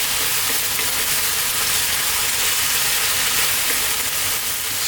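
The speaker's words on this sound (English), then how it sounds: "I'm going to turn the heat up now to maximum. We're going to go for about another 5 minutes, stirring pretty much all the time." Ethiopian lamb siga tibs fries on maximum heat while being stirred, a loud steady sizzle and hiss that runs without a break, with faint scraping under it.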